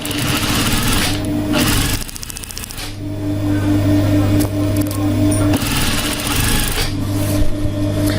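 An overlock serger sewing machine runs loud and close in fast mechanical bursts, stitching trim along fabric edges, with brief pauses between runs.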